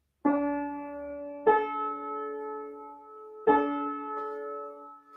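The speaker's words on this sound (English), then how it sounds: "the distance between two notes that are in that ratio is called the perfect fifth" Soft, bell-like synthetic tones sound in a slow sequence, D repeating before A joins a perfect fifth above, each strike ringing and lingering with a gentle decay.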